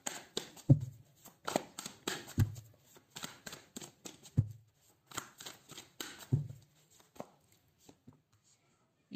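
Tarot cards being shuffled and handled, with irregular riffling, slaps and soft thumps on a surface, close and fairly quiet, with no voice.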